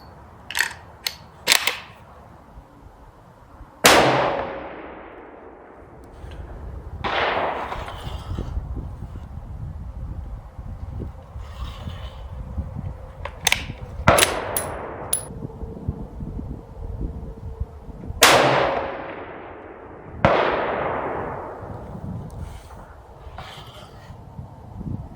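Rifle shots fired at steel targets 1000 yards away, several sharp cracks spaced several seconds apart, each with a long decaying ring-off, over steady wind noise outdoors.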